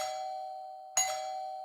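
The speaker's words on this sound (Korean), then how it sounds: "초인종을 여러 번 눌러도 반응이 없어서" A doorbell used as a sound effect in a Korean horror radio drama: a sustained electronic chime tone, then one sharper ding-dong strike near the middle, heard alone and moderately quiet.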